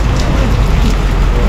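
Heavy rain pours down near a ferry port as a loud, dense, unbroken hiss close by, with no clear talking over it.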